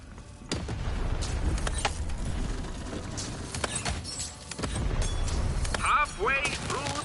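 Cannon shots and mechanical clanks in the video game Lost in Random, a dense stretch of booming impacts and rattling machinery with a voice talking over part of it.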